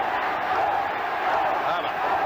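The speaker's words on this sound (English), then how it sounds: "Now the crowd chanting West, West, West, West." A rugby league crowd at the Sydney Cricket Ground chants during a St George versus Wests match, a broad, continuous roar of many voices heard from a distance.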